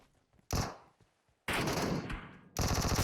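Gunfire in the PUBG Mobile video game: three loud bursts of rapid automatic fire, each lasting about half a second to a second, separated by near silence.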